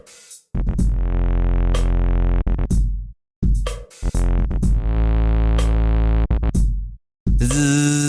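A person's voice imitates a mosquito buzzing in long, steady, loud drones, broken by short gaps and ending on a higher, wavering tone.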